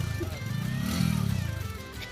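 A motorcycle engine runs close by as it crosses a flooded road, a steady mid-pitched drone that swells slightly in the middle, with faint voices in the background.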